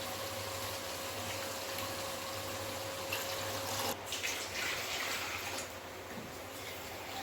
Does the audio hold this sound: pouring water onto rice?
yes